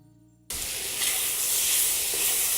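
Chopped chili meat browns in a hot pan over higher heat, a loud, steady close sizzle that bursts in abruptly after a quiet moment and holds on alone.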